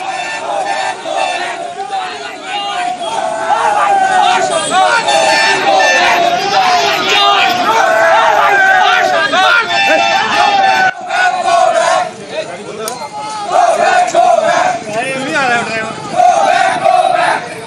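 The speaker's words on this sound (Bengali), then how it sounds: "তৃণমূল কংগ্রেস কর্মীদের গো ব্যাক স্লোগান নিখিল রঞ্জন দের উদ্দেশ্যে" Trinamool Congress workers in Cooch Behar shout rhythmic 'go back' slogans at a BJP MLA, a loud crowd of voices chanting together in repeated bursts, with brief dips between rounds.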